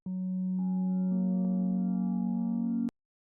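A consolidated three-note chord progression from a sad slowcore FL Studio beat, heard as a sustained pad-like chord entering in staggered layers, then held steady and loud before cutting off abruptly with a brief click.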